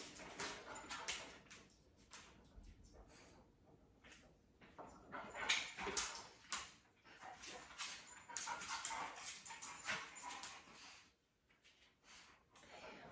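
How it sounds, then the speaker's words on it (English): Several pet dogs indoors during a home workout, snorting, whimpering and giving occasional yips in irregular bursts, fairly faint and at a short distance, with no talking. "My dogs are being crazy right now."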